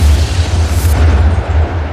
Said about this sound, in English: Another colossal explosion tears through the platform, scattering debris over 800 meters.